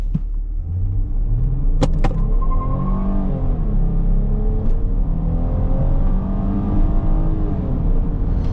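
A 2024 Chrysler Grand Caravan minivan's engine revs and rumbles as it accelerates hard, with rising whine and brief sharp squeals of tires near the start.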